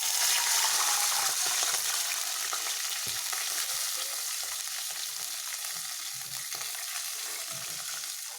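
Two cups of water poured into a pan of fried dry fruits for sooji halwa set off a loud, steady sizzle that gradually settles down, with no one talking.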